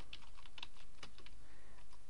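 Quick, irregular clicks of keys on a computer keyboard while typing a plugin search, close and crisp with no voices.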